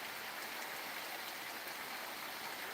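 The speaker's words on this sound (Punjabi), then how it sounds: "ਬਹੁਤ ਜ਼ਿਆਦਾ ਬਾਰਿਸ਼ ਹੈ" Heavy rain pouring steadily during a downpour that floods fields, a dense, even hiss of falling water that holds at a constant level throughout without pauses or voices.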